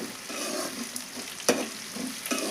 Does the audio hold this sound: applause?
no